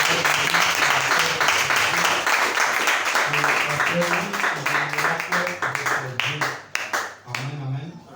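Applause and clapping from a church congregation during a French-language service, dense and steady for most of the stretch before thinning out, with voices calling out over the clapping.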